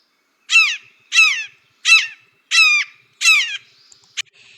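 A blue jay's imitation of a red-shouldered hawk, played back from a recording: five loud, evenly spaced screaming calls, each a brief harsh descending cry, followed by faint scattered chatter and a sharp click.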